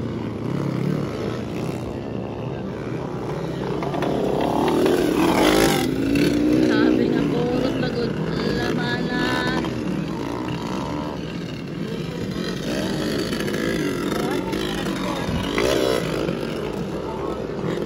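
Motocross motorcycles race in the final heat of an invitational event, engines droning and revving steadily at mid distance throughout, with a crowd and voices talking over the noise.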